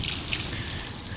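Water sprays steadily from a hose nozzle as a bicycle is rinsed of soap, a constant close hissing rush with slight fluctuations.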